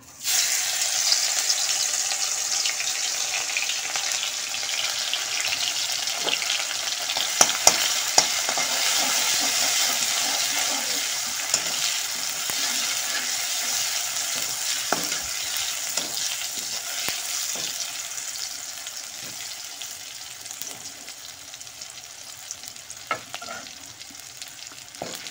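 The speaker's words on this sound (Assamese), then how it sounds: "আদাখিনি অকণমান ৰঙচুৱাকৈ ভাজিম।" Finely chopped ginger frying in oil in a pan for a potato, pea and paneer curry, with a steady sizzle and intermittent scraping stirs and clinks of a spatula, no talking.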